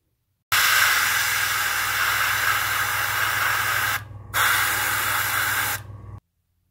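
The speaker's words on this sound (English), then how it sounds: "just by spraying on black to the back of the exhaust" An aerosol can sprays black paint onto the rear exhaust of a model Crusader III tank, a loud close steady hiss lasting several seconds with a brief pause before it resumes.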